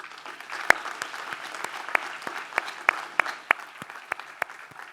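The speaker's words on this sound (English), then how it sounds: "let's honor them and say a big fat thank you with a heartfelt applause" Sparse applause at the SIM and University of Birmingham degree congregation, with distinct, separate claps ringing out through a hall over a soft bed of quieter clapping, steady and moderately loud.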